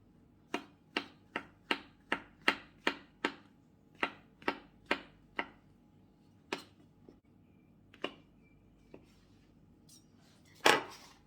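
A knife cuts mushroom stalks in half on a board, making about fourteen sharp, close chops: a quick run at first, then slower and more spaced, ending in one louder knock, with no talk.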